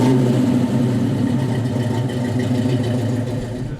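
A 1967 Chevelle Super Sport with a deep red finish rumbles through its dual exhaust, the engine steady and loud with a deep, full low tone and slight revving swells, heard close and alone throughout.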